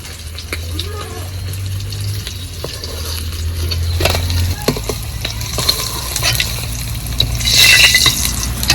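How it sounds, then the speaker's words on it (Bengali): Pieces of katla fish frying in hot oil give a steady, close sizzle with scattered crackles and spits, swelling louder near the end, while a voice talks faintly underneath. "বাকিগুলোও ভেজে নেব"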